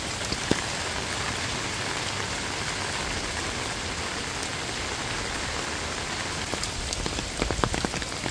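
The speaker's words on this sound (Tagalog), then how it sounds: "Maulan po ang panahon ngayon." Steady rain falls outdoors in a rural mountain setting, a dense even hiss of drops that stays constant throughout, with a few sharper patters near the end.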